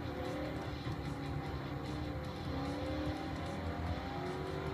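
A race car engine in Forza 4 held near the redline, a steady loud droning roar with rising and falling pitch sweeps throughout, no talk over it.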